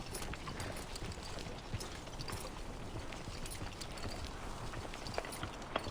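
Horse hooves clip-clop in the video game Reverse 1999, a quick steady patter of hoof beats under a dense, constant wash of background noise.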